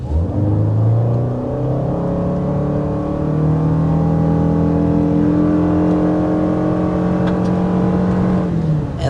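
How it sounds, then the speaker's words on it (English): A 2023 Toyota Sienna minivan, running a front electric motor with a rear E-axle, accelerating hard from 0 to 60 mph, its engine note climbing steadily and loudly over several seconds as the van gathers speed. "Not sure any Sienna owner has ever done a 0 to 60 test, but we just did one."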